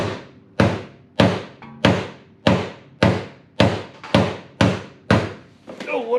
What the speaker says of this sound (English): Get this dead blow out and really give her some pounding.